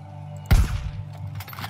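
A sniper rifle fires a single sharp, booming shot in the video game Far Cry New Dawn. It is close and loud, with a short decaying echo over quiet game ambience.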